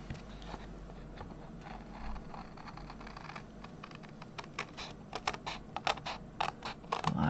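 Paper is cut for a perpetual calendar craft, with a steady series of small crisp snips and ticks close by that grow sharper and more frequent toward the end, with no talk.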